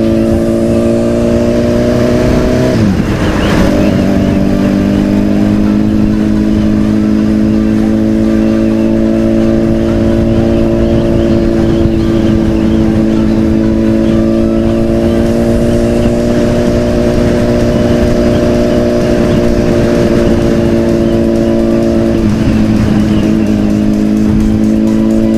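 A motorcycle rides slowly through the city of Syzran, its engine droning loudly and steadily close up with a constant low hum and mild rises in pitch, wind rush around it.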